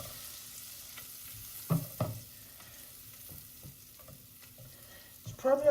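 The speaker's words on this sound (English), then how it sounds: "So I melt some butter" Butter melts in a pan for seafood fried rice, a quiet, soft sizzle underneath a few distinct knocks and scrapes of a utensil against the pan, with a louder clatter at the end; no talking.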